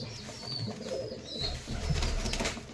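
Pigeons coo softly in a pigeon loft, with a low murmuring coo rising and falling over steady background noise and no talking.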